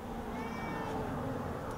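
A cat outdoors near a garden compost pile gives one drawn-out meow at moderate distance over steady background noise.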